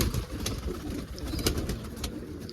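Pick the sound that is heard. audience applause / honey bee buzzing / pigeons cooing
pigeons cooing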